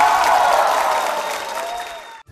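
A studio audience at a Vietnamese comedy show claps steadily, a close, dense wash of applause that fades slightly before cutting off abruptly.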